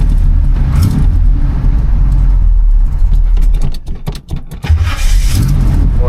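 Old Chevrolet C10 pickup, about 45 years old, being cranked and starting, its engine rumbling loud and close with a strong low-end roar and a brief dip and sputter partway through.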